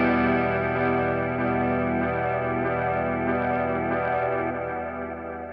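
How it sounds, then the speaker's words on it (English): Boss RE-202 Space Echo pedal in warp mode, swelling a dreamy, washed-out reverb over sustained guitar tones; a dense, loud, continuous shimmer of layered echoes that thins slightly at the end, with no talking. "let's go to this switch where we have a warp mode. And like I said, it kind of makes like a dreamy reverb"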